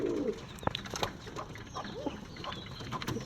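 Pigeons in a backyard loft coo, with a low, soft coo near the start standing out from a busy background of scattered clicks, rustles and short bird calls.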